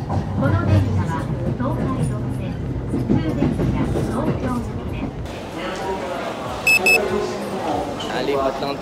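Rumble and rattle of a moving train with people talking nearby, the rolling noise shifting partway through and a brief high chime sounding.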